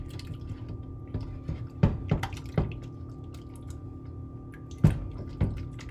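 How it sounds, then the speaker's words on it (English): Hot water and borax being mixed into a glue and water solution for flubber, giving faint wet squelches and a few louder sticky splats against a low steady hum. "we're going to just slowly mix the hot water and borax into the glue and water solution"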